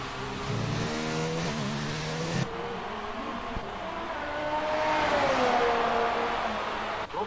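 Game F1 race cars from F1 2019 tearing around a fast lap, a steady high engine whine rising and falling in pitch as the car accelerates and shifts, loud and continuous throughout.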